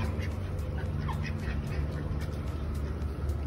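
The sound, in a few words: ducks quacking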